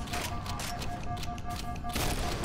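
Gunfire in Halo CE sounds as a brief dense fusillade over a steady mechanical hum, continuous and moderately loud, with no one talking.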